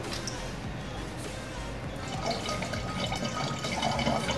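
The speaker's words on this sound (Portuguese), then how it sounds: "E a gente completa um litro de água." Clean water is poured into a car's radiator coolant reservoir, a steady gurgling, splashing fill with occasional drips and knocks, continuous and close for several seconds.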